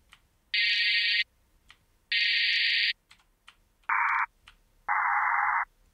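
Four sustained, bright buzzy detuned saw-wave synth tones, two higher and two lower, each held about half a second to a second with brief clicks between.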